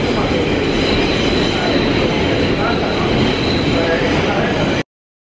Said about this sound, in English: The next upbound train is now arriving on the